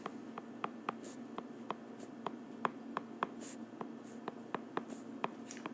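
A pen sketches a chemical structure on paper or a board, giving quiet, regular scratchy strokes and taps roughly every third of a second over a faint steady hum, close and soft, with no talk.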